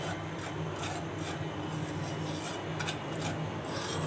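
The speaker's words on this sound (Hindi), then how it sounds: "चम्मच जो है अंदर घुमाते रहें ताकि नीचे लगे ना" A spoon keeps stirring semolina as it roasts in a pan for a sweet milk dish, a continuous close scraping with steady rhythmic strokes over a low background hum.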